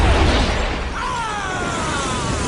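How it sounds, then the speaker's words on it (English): An explosion in a live-action Grinch Christmas film from 2000, a loud broadband blast at the start that rolls into a sustained rumble with a thin whistling tone layered on top, heard alone. "There's an explosion in The Grinch."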